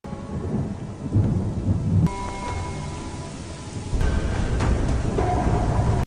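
Heavy rain hisses steadily during a fight scene, with deep rumbling, mixed with sudden shifts in the scene's sound.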